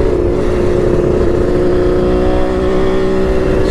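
Kawasaki KH500 H1 two-stroke triple motorcycle engine running smoothly in third gear, a loud, steady droning buzz held at constant pitch throughout.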